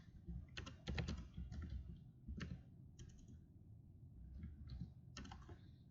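Typing on a computer keyboard during an Among Us game session, faint clusters of quick key clicks separated by short pauses, close by with a low background rumble and no talking.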